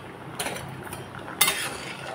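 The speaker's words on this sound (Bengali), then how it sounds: "5 মিনিট পর আবারও ঢাকনা খুলে দিলাম।" A lid is lifted off a cooking pot of simmering bottle gourd and jackfruit seeds, giving a few short metallic clinks and scrapes, the sharpest one clear and close near the end.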